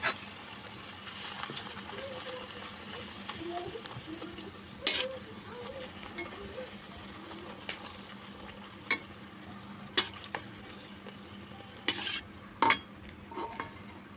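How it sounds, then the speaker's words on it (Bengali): Luchi, puffed flatbread, deep-frying in oil in a home kitchen: a soft, continuous bubbling sizzle over a low hum, with occasional clinks and bumps from utensils. "তো বন্ধুরা চলো লুচিগুলো ভেজে নিই আস্তে আস্তে"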